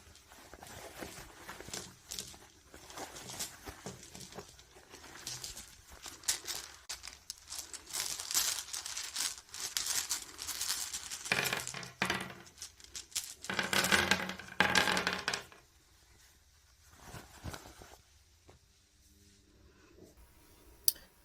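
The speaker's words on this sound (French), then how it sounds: "on va lancer les dés et voir ce que le hasard nous propose comme monde." Story Cubes dice rolled onto a sheet of paper, a busy run of clattering taps, knocks and paper rustles in bursts, then sparse clicks as the dice settle, close up with no talking.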